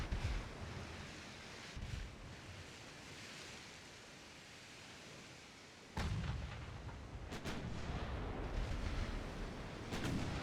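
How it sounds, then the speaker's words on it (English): Naval guns fire in the Ultimate Admiral Dreadnoughts warship game: distant deep booms against a quiet rumbling sea-like wash, with a sharper blast partway through and a few more quick shots after it. "these 10s can fire pretty quick"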